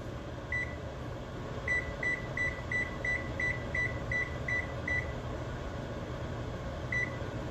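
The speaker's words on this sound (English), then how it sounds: "I'm gonna set the timer for 10." An oven timer is set with a rapid run of about ten short, bright electronic beeps, followed by one more beep a moment later, all over a steady low kitchen hum.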